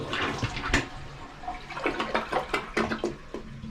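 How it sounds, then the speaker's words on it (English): A Sloan Gravity Series toilet bowl flushes with a rushing, gurgling swirl of water, soft and close, made up of a run of splashy surges that stay fairly quiet throughout. "This has the new flushing system from Sloan, the Gravity Series bowl."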